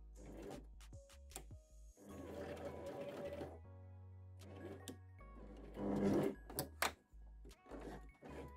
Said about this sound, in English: Start to sew, keep the needle down, lift the foot up, and just keep repositioning it.